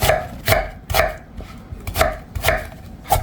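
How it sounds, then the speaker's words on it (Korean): Steady knife chops slicing onion on a cutting board, about six sharp strikes at a regular, unhurried pace, close and clear with no talking. "양파는 중간 크기로 1개 반 썰어요"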